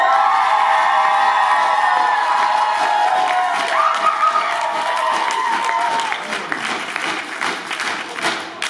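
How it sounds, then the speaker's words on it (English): A live theatre audience at a drag show screams, cheers and applauds loudly to back a contestant, a dense roar of whoops and clapping that carries on, then thins into scattered claps and shouts. "if you think contestant number two should win, scream and shout"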